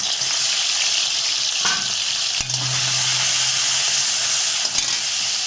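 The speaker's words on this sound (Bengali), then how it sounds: "এইগুলো ভালো করে নুন আর হলুদ মাখিয়ে নিয়ে তেলের মধ্যে ভেজে নেব।" Freshwater snails coated in salt and turmeric fry in hot oil, producing a steady, close sizzle and crackle throughout, with a few stirring clicks and scrapes.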